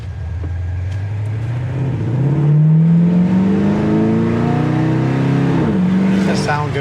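A 1968 Pontiac GTO's deep, throaty V8 engine runs loudly and steadily, its pitch slowly climbing as it revs up, then settling back.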